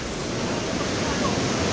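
Steady, loud rushing water fills the air near a jungle waterfall swollen with new flow, a continuous broadband roar with no breaks.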